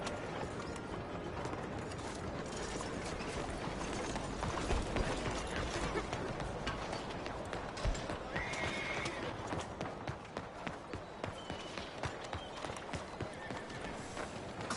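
Horse in the Red Dead Redemption 2 game, a whinny followed by rhythmic clip-clop of hooves and some mechanical clicking and rattling, at low level throughout.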